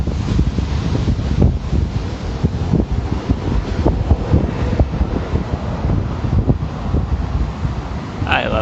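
Ocean surf on a beach with steady wind buffeting the microphone, a constant loud roar of waves and gusts without pause.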